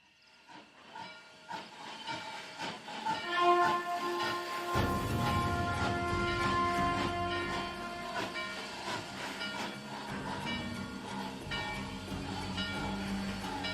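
A steam train hisses loudly and continuously, building in the first few seconds, with a low rumbling chug joining underneath and carrying on to the end.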